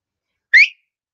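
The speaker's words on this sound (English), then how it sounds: "I can whistle with any two fingers" A single short, sharp two-finger whistle rises quickly in pitch, loud and close, with silence before and after.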